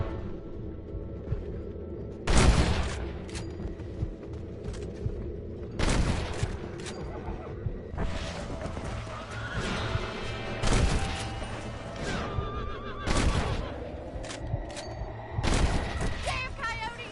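Repeated loud gunshots fired at coyotes in Red Dead Redemption, single blasts spaced every few seconds over an outdoor ranch backdrop with game ambience between them.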